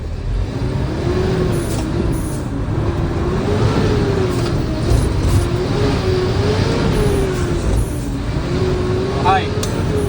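A heavy Howo prime mover truck engine drones and rises and falls as it works through its 10-speed high-low splitter gearbox, with a voice talking over the rumble.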